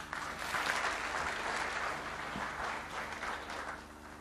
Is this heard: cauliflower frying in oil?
no